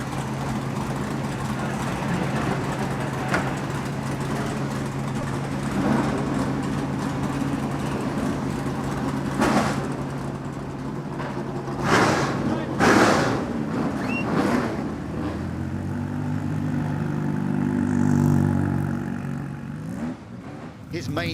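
A 1988 race car engine is driven hard at the Festival of Speed, a steady engine drone with rising and falling revs, with louder roaring passes near the end, under someone talking.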